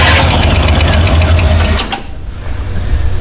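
A fuel-injected Firepigeon engine cranks as the throttle is pumped: a loud, rhythmic mechanical churning close by for about two seconds, then it drops away to a quieter, uneven hum.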